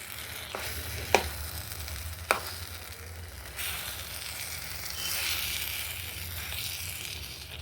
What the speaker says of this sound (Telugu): లో ఫ్లేమ్లో కొద్దిగా మెల్లగా ఉడికించుకోవాలి